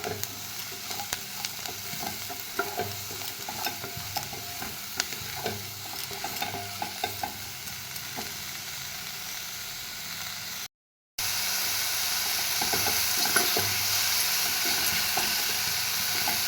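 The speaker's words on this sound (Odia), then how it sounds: "ଏବେ ଆମେ ସେଥିରେ ମସରୁମ୍ ପକାଇକି ଭାଜିବା।" Mushrooms fry in a pan with onion, ginger, garlic and chili, a steady close sizzle with scattered crackles and scrapes of stirring, broken by a brief cut of silence before the sizzling resumes.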